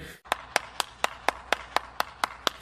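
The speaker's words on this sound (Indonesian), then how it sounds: "tepuk tangan sekali lagi teman-teman" Children clap their hands in a steady, even beat, about ten sharp claps in quick succession, close and clear over a quiet background during a kids' puppet guessing game.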